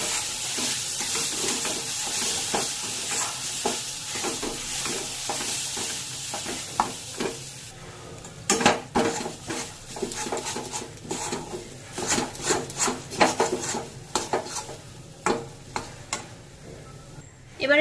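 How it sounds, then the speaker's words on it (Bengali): Lentil paste frying in oil with cumin in a wok, a steady sizzle under rhythmic scraping and knocking of a spatula stirring, the strokes growing sharper and more spaced toward the end. "এবার তৈরি করে রাখা এই ডালের পেস্টটা এর মধ্যে দিয়ে দেব। এবার ভালো করে নেড়ে একে শুকিয়ে নিতে হবে।"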